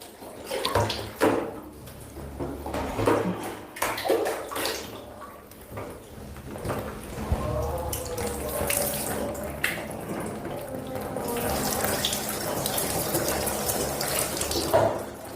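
Water poured repeatedly over the body during a ritual full-body bath, splashing and running steadily for the whole stretch, loud and close, with no talk.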